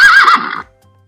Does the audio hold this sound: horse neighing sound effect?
yes